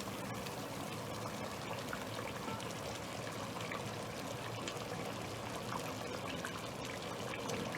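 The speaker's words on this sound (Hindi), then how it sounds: "तो अब हम तेल भी साथ ही डाल देंगे" Oil being poured into a pan while cooking beef keema with onions, a continuous steady pouring and sizzling wash heard close and alone.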